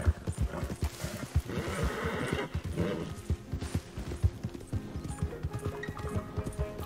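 Horse in Red Dead Redemption 2 clip-clopping with rhythmic hoof beats, breaking into a loud neigh and whinny partway through, close and clear, then more hoof steps.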